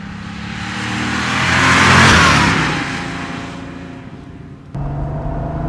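A 1989 Porsche 911 3.3 Turbo Cabriolet with five-speed gearbox accelerates hard, its engine note rising to a loud peak and fading, then a sharp gear change brings a renewed deeper pull.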